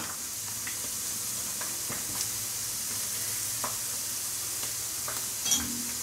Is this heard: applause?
no